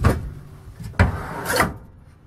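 A wooden kitchen drawer beneath the cooktop of a restored Travco motor home sliding and rubbing on its runners with a dull knock midway, close and alone.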